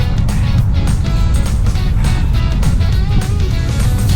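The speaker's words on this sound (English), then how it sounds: "Car on my right." A car passes a cyclist on the right on an open road, heard as a steady, loud rush of engine and tire noise mixed with heavy wind buffeting close to the rider.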